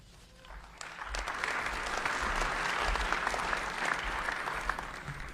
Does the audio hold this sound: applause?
yes